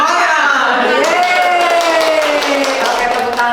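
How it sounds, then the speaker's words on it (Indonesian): A group at a school gathering claps together in a dense, continuous burst of applause, loud and close, with voices and a sustained sung or called tone running through it. "Oke, tepuk tangan buat kita semuanya."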